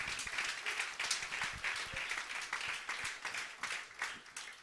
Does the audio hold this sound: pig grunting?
no